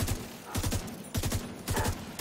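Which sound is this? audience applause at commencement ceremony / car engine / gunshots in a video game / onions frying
gunshots in a video game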